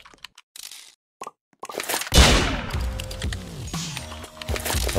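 A new gun fires in the MM2 aim trainer video game: a few sharp, clicky shots come first, then a loud burst of rapid gunfire with ringing, descending electronic tones.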